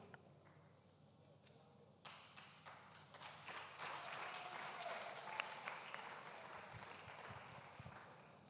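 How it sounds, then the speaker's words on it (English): An audience at a model UN general assembly breaks into applause after a quiet start, the clapping swelling and holding steady as a dense, moderately distant patter. "Please clap for him"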